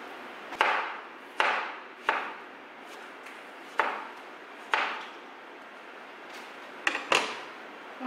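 Knife slicing three strawberries on a cutting board for a half-litre jar of fruit water, about eight sharp chopping strokes in an uneven rhythm, close and fairly quiet.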